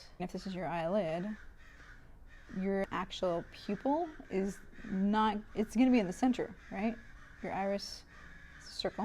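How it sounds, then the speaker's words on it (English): Crows caw repeatedly outside a window, an agitated flock heard in the background under steady close talking that fills most of the stretch. "there's a bunch of crows outside my window going nuts right now"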